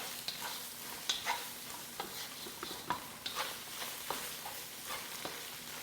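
Eggs scramble and sizzle in a hot wok, a soft steady frying hiss broken by light scraping stirs at an irregular pace, fairly quiet and with no voice.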